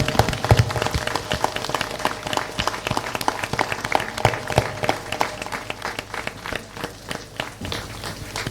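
An audience at a memorial tribute event for martyrs in Karondabeda, Gumla claps loudly and steadily, a dense applause that continues throughout.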